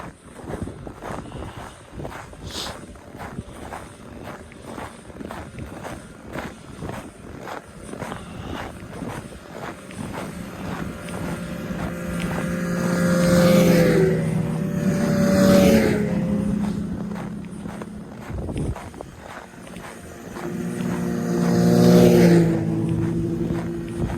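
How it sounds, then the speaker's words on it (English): Several snowmobiles approach along a snowy recreational trail at a trail crossing. Their engine buzz starts faint and distant and swells into two louder passes as they go by. "we're coming up to a place where snowmobile trails cross. And there's a few of them coming up this way now."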